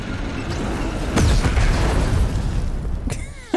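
Explosive booms and bursts from combat in the video game Batman: Arkham Knight, a loud blast near the middle and another sharp burst near the end, over a steady rumbling bed of game noise.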